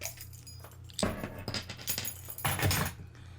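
Keys pried against the cap of a Blue Point Brewing Honey Robber Cream Ale bottle, giving a few close metallic clinks and jangles, with two sharper scraping bursts near the end.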